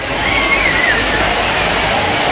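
A waterfall at the Nicco Park water park in Kolkata sends out a steady, loud rush of splashing water, close by, with faint voices under it.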